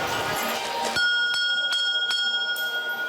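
A bell rings out to open a walk through an exhibition of 350 nativity scenes from 30 countries, striking about five clear, ringing strokes in steady rhythm after a burst of background noise.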